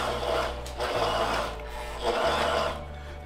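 A Consew industrial sewing machine top stitching fabric, its motor whirring and needle chattering in two steady runs with a brief slowdown between them, close and loud with no talking.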